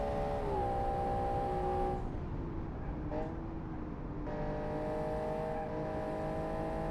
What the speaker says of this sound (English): if you want to enjoy this car, you really need to rev the engine through the moon